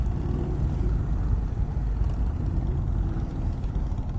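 An Indian Chieftain Darkhorse motorcycle fitted with a stage 3 big bore kit rumbles steadily on a demo ride, a deep, continuous low engine drone with wind noise and no talk.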